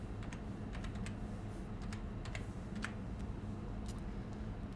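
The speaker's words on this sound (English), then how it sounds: "type in the network security key, the password that you'll be provided with." A computer keyboard being typed on to enter a network security key, with quick uneven key clicks in short bursts over a steady background hum, close and fairly quiet.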